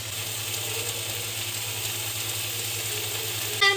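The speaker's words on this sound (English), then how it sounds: "Whilst the steak's sizzling away" Steak sizzles steadily in a pan, a close, continuous hiss and crackle under a low kitchen hum, with a brief clatter right at the end.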